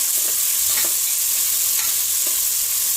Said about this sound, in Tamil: இப்போ இந்த வெங்காயம் நல்லா ப்ரௌன் ஆகும் வர வதக்கி எடுத்துக்கலாம்.